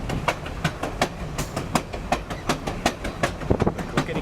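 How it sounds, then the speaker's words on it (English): A Grand Canyon Railway train heading back to Williams, Arizona rolls along, its wheels beating a steady clickety-clack over rail joints, heard up close from the rear platform, with no voices. "The clickety-clack."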